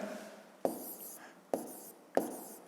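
A pen writing by hand on paper during a fifth-grade maths exercise, with three sharp taps followed by soft scratching strokes, quiet and close, without speech.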